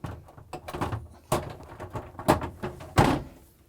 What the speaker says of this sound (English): and we can slide the door closed